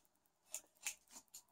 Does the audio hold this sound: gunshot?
no